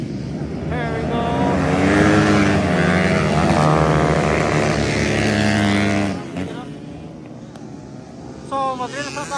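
Underbone and dirt bikes (CRF 250, XRM, KLX) race on a flat track, engines buzzing and revving loudly as they pass close, then fading, with a commentator talking over them.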